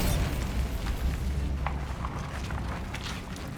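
A Bombarda blasting spell erupts in Hogwarts Legacy on PS5, a dense low rumbling explosion that is loud at the start and then rolls and fades slowly, with faint debris crackles above it.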